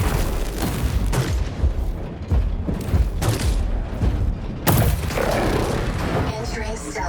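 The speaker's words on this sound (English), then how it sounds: "They just sit over there in the very back and just lob missiles forever." Missiles lobbed from long range explode among combat robots in War Robots: Frontiers, a series of heavy booms and mechanical clanks under a voice talking.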